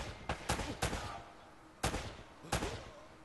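Gunfire in the video game Uncharted: Drake's Fortune: five sharp, loud shots in two quick clusters with a short pause between them.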